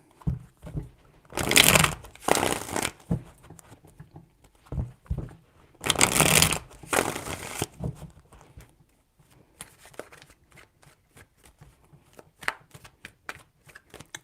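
A deck of tarot cards is riffle-shuffled at close range, two loud crisp bursts of flicking cards separated by softer handling taps and light knocks.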